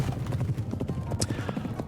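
Galloping horse in the video game Pumpkin Jack, a rapid, steady rhythm of hoof clops heard close and moderately loud over a low rumbling background.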